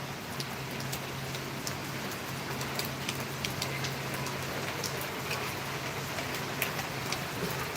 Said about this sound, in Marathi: हा पाऊस जोरदार लागेल लागेल की काय माहित नाही